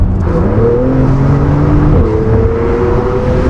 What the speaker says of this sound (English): if you're not going to get these sounds and vibes off the car, then why buy a Porsche?